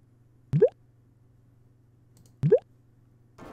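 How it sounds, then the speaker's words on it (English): Windows XP Plus! aquarium theme system sounds: two short watery bubbling plops with rising pitch, spaced about two seconds apart over near silence, with the start of a third at the end. "Here's all the aquarium sounds."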